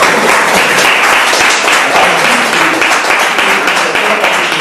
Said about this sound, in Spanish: bueno, vamos a darle un aplauso, ¿no?